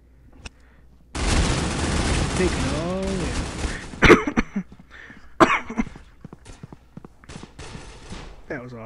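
A triple-shot gun in Critical Ops fires a dense, rattling volley, followed by a few sharper separate cracks, with a voice talking over and between the shots.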